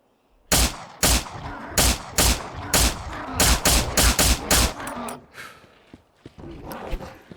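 Repeated gunfire from the survival video game Miscreated, a rapid run of loud close shots in uneven bursts that thins out into a few scattered, fainter reports.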